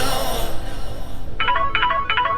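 A phone ringtone starts partway through, playing a short electronic melody that repeats three times, loud and close, after a moment of muffled background noise.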